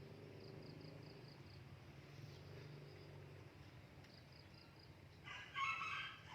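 Roosters crow in the distance in the early morning, their long calls repeating over a steady hum, ending with a louder, closer crow.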